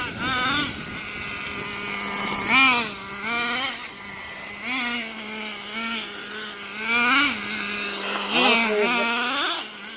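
A Traxxas Jato 3.3 nitro RC truck running on 30% nitro fuel, its small engine buzzing high and revving up and down repeatedly, loud and close, with brief throttle blips and drops on wet ground.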